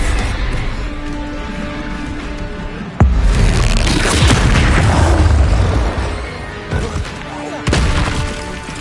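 Spell explosions booming in the Hogwarts Legacy video game, a loud broadband blast striking sharply at about three seconds with rumbling bursts after it and further hits later, all inside dense combat noise and music.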